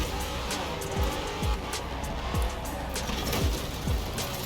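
A revving car engine in Forza Horizon 4 roars steadily with periodic shifts and whooshing pitch drops, loud and continuous with a synthetic, game-like quality.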